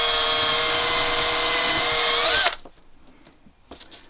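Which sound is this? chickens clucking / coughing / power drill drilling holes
power drill drilling holes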